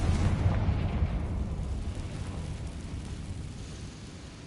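A Confringo fire spell exploding in the Hogwarts Legacy video game: a loud booming blast that rolls into a long, low rumble, gradually fading over a few seconds.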